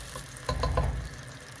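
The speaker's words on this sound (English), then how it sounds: "So as it's still frying, I will just allow it." Food frying in a pot for egusi soup, a soft steady sizzle with a louder burst of stirring in the middle before it settles back to a quiet crackle.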